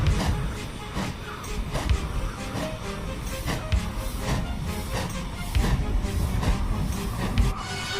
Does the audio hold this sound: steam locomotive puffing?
yes